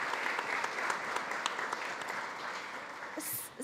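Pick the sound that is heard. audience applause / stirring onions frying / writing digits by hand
audience applause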